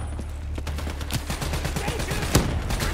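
Automatic gunfire in Call of Duty Mobile Black Ops 3 multiplayer: a steady, rapid train of sharp shots with a few louder cracks, firing continuously for several seconds over a low rumble.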